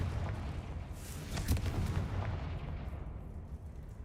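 A Confringo fire spell blasts in the Hogwarts Legacy video game, a dull boom with a loud burst peaking near the middle over steady low rumble.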